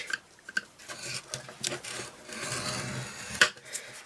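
Cardstock scored for a box with a scoring tool, giving soft, close scraping strokes and a few light taps, uneven in rhythm and fairly quiet.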